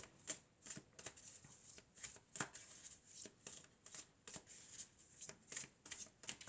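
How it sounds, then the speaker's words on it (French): A deck of oracle cards is shuffled by hand in a quiet room, giving a run of soft, rapid papery riffles and slaps in uneven bursts. "on va prendre quelques cartes de l'oracle de la Triade"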